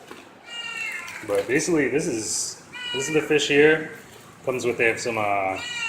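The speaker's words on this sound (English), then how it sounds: "Sorry if you hear my crying cat in the background." A pet cat cries and meows repeatedly, with drawn-out, wavering calls in bursts close by while a person talks over it.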